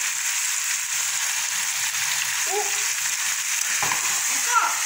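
Meat frying in a pan with a little Kashmiri chili powder added, a steady close sizzle and hiss throughout with a few faint clinks and scrapes.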